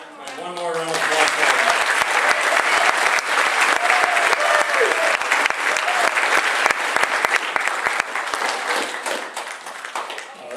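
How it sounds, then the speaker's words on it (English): Audience at a school spring music concert in New London, Iowa, gives a loud, sustained round of applause for a baritone soloist. Dense clapping fills about ten seconds after a brief voice at the start, then fades slightly near the end. "One more round of applause."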